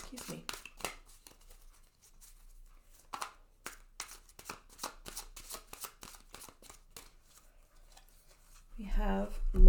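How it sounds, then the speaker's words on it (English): Oracle cards are shuffled close up in quick rhythmic riffles and flicks that repeat across the whole stretch, with a voice talking over them and a louder rustle at the end. "I will pull one of these oracle cards for you"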